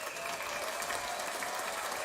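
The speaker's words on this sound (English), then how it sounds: "so round of applause for you" A studio audience claps in a dense, even burst of applause, close and steady for a couple of seconds with no break.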